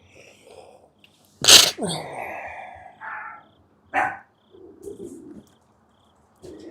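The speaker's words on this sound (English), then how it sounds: "The dogs heard me sneeze." One sharp, loud sneeze close by, followed by a few soft barks and whines from dogs with faint chirping in the background.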